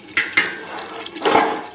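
Water pours into a pot of dhaba-style chana masala in a home kitchen, a steady splashing stream with a couple of sharper gushes at the start and near the end.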